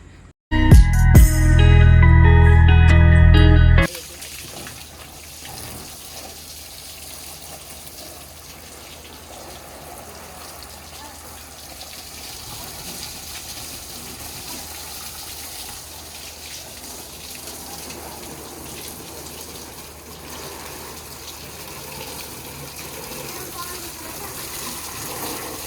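Water gushes steadily from a hose onto a dirty vehicle for about twenty seconds, a continuous hiss and splatter at moderate loudness, after a brief burst of loud music at the start.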